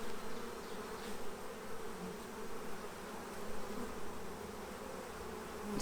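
A steady, dense drone of many honey bees buzzing in an open Saskatraz hive during an inspection, close and continuous with slight swells, no voices.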